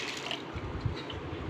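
Sago pearls washed in water by hand, with soft sloshing and gentle liquid swirling, faint and close, continuous through the short stretch.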